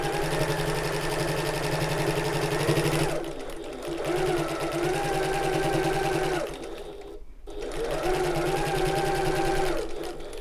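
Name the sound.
sewing machine stitching tote bag with tiny stitches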